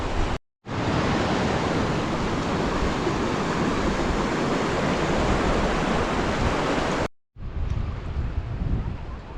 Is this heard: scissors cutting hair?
no